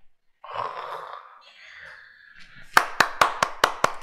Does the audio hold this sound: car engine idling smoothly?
no